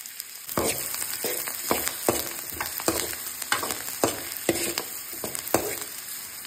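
Onion and chili stir-fry in a hot pan for squid with petsay, a steady bright sizzle broken by repeated scraping strokes of a spatula at an uneven rhythm, close and fairly loud with no talking.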